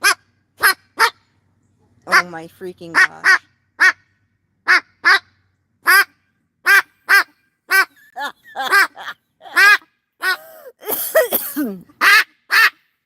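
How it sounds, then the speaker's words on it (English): Geese and ducks honk and quack loudly in a long run of sharp, separate calls, close by and persistent, with a person briefly exclaiming among them. "Those are birds."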